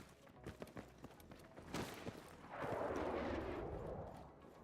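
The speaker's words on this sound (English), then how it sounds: "You are danger close to an airstrike." Airstrike explosions in the video game Battlefield 6: a few muffled thumps, then a heavy rumbling blast that swells and lingers for several seconds at moderate loudness.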